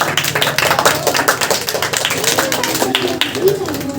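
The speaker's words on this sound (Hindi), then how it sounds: "आप सब ताली बजाएंगे प्लीज।" Audience applause at an Independence Day celebration at a coaching centre, steady and dense for several seconds with voices talking over it.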